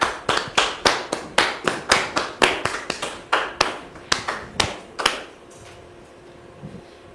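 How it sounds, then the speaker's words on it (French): About sixteen sharp, evenly spaced claps or taps ring out close and loud in a steady rhythm as guests are welcomed, then stop abruptly, leaving a quiet room with faint background noise. "Merci de les recevoir sous vos applaudissements"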